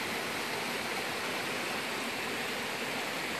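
A forest stream flows in the Eastern Mecsek hills, a steady, full broadband rush of water that holds even and unbroken throughout.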